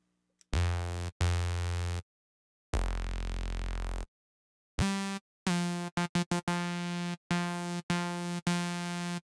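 A trance synth bass runs through a 24 dB low-pass filter with added drive and cutoff modulation. It plays as a series of buzzy, harmonically rich notes of varying length, some long, some in quick staccato runs, separated by silences.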